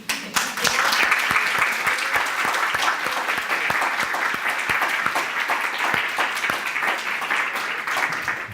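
Sustained applause from an audience at a community talk on work in Guatemala, a dense steady patter of many hands with sharp individual claps standing out, filling the whole stretch at even loudness.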